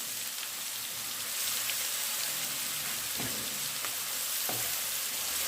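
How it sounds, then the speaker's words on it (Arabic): Chopped onion frying in the same pan used for kofta with potatoes, giving a steady close-up sizzle with a few small pops and crackles throughout and no talking. "نفس الطاسه هنحط عليها البصله، حطينا البصله"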